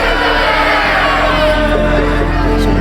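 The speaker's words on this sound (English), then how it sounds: "the mob roared even louder" A large angry mob roaring and shouting in unison, a dense, loud, continuous wall of many voices that holds at full volume for the whole stretch.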